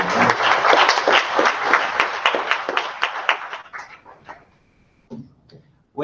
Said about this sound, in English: maybe you can join me in a round of applause for our panelists.